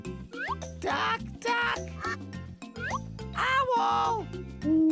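Cartoonish duck quacks in a toddler's animal-words learning program, several bright, nasal quacks in quick bursts over a bouncy musical backing.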